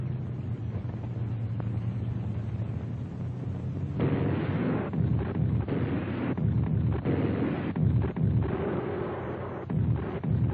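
Tank and Panzerjäger gunfire in WWII German archival battle footage, heard as a dense, rumbling series of booms and blasts over a continuous low din, loud and without voices.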